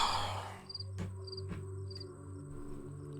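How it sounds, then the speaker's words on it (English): The night ambience of the video game Pathologic: rhythmic chirping of crickets pulses steadily against a low hum, faint scratchy scurrying comes from a rat, and a few soft clicks sound, all quiet with no talking. "enjoy the soothing sounds of a rat scurrying around with the crickets."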